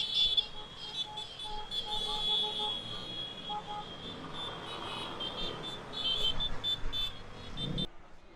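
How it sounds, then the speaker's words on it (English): Car horns beep repeatedly in street traffic near Prague Castle, several short toots and longer honks from different vehicles overlapping at moderate distance amid crowd and engine noise. "Some of these people are really well dressed and they're all beeping, they're messing up traffic"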